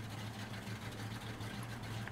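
A truck engine idles in the Spintires MudRunner game, a quiet, steady low rumble that runs evenly and alone for a couple of seconds.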